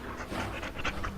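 A dog panting in a video game, quick rhythmic breaths in short bursts, close and fairly quiet, with no talking over it.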